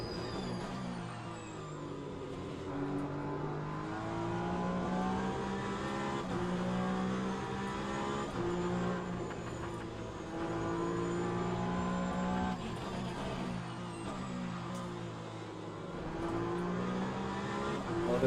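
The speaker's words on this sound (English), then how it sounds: "Oh, that was a slow BMW." A BMW race car in a racing game, on a cold Bahrain track, drones its engine steadily for the whole stretch, with sustained harmonic engine tones that rise and fall as it passes, loud and continuous.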